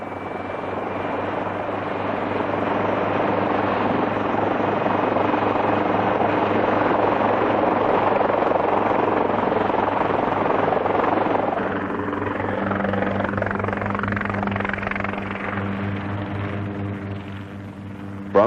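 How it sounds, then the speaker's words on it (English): Helicopter lifting off over the island of Santorini (Thera), its rotor and turbine droning loudly and steadily throughout with a continuous low hum, easing slightly in the second half. "the helicopter lifts off to make the first reconnaissance"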